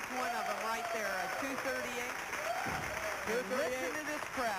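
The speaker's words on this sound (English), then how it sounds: "Listen to this crowd." A crowd at the 1986 LPBT Sam's Town Invitational women's bowling tournament applauds a 238 game with continuous, dense clapping and cheering, while a commentator talks over it.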